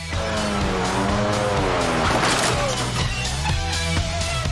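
A car on a test drive roars close and loud, its engine pitch climbing and falling through gear changes while tires squeal and skid over the steady motor drone.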